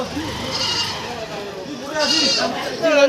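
Goats bleat close by in several wavering calls at the crowded Nishiganj goat market, with people talking underneath.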